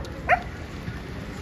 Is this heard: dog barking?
yes